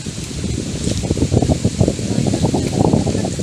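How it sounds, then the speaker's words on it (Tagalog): Strong gusty wind on a farm field buffets the microphone and rustles leaves nearby in loud, uneven surges, with no speech. "Lakas ng hangin dito."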